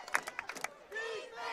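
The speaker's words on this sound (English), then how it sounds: "Crowd chanting defense, trying to get the defense fired up here" A high school football crowd at a Walters versus Christian Heritage game chants in rhythmic bursts of massed voices, then swells into a sustained roar from the stands.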